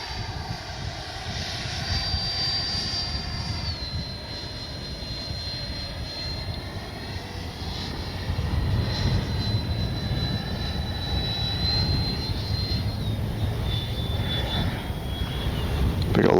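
Freewing 90mm F-22 RC jet flying overhead with a steady whining ducted-fan hiss, passing at moderate distance and swelling slightly partway through, with outdoor wind noise.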